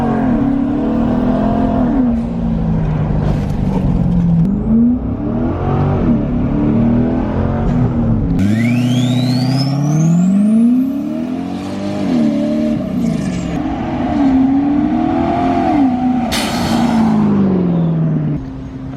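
A C6 Corvette Grand Sport fitted with an STS turbo kit accelerates at full throttle, its loud, close engine note climbing and dropping through several gear changes, with a rising whine riding over the roar.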